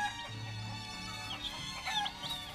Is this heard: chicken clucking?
yes